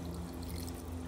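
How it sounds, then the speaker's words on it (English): Spring water poured over tricolor sea moss left to soak, a steady continuous pour heard close and alone for about a second. "Go ahead and add that water in there."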